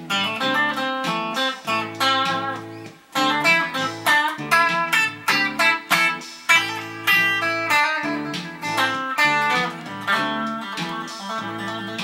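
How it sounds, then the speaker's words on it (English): An amplified electric guitar plays a busy lead line of quick picked notes over a steady repeating backing, loud and close. "this guitar is coming through that amp, so it sounds like"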